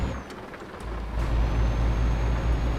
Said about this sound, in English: That was an upshift at 2000 RPM